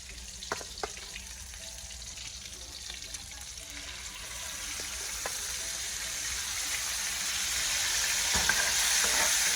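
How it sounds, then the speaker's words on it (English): Onions and a fresh garlic and thyme marinade sizzle in a pan, a continuous crackling fry that slowly builds in loudness, with occasional light clicks of stirring close by. "onions go in, a little bit of the marinade, and that marinade is loaded with fresh garlic, thyme"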